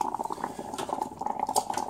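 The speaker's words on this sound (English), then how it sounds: "So yes, it's definitely working. It's definitely boiling the." A vintage Russian 12V car kettle, powered from a cigarette lighter outlet, boils water with a steady close bubbling and crackling rumble that holds throughout with small irregular pops.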